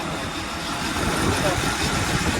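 Low, steady rumble of a car engine idling nearby, continuous throughout with a faint background murmur.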